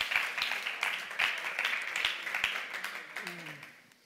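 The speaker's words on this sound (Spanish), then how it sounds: "Un aplaudiment per l'Alberto." A studio audience at a Catalan game show gives a round of applause for a contestant: brisk, close hand claps that gradually fade, with a voice briefly coming in near the end.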